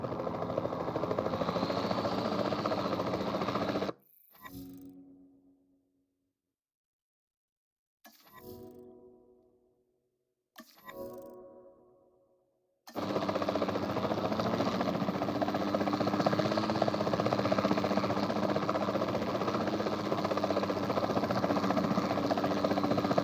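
A capture team helicopter in Jurassic World Evolution 2 gives off a steady whirring rotor and engine drone that cuts out twice into near silence with short fading bursts, then returns at full level for the rest.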